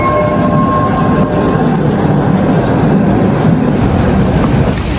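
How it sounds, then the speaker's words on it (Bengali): A train pulls into a station in Doha, Qatar: a steady, loud rumble and rattle run throughout, with a thin whine in the first moment. "একবারে ঠিক টাইমে এখানে ট্রেন চলে আসে দোহাল্যান্ডে"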